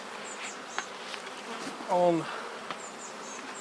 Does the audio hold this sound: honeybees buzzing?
yes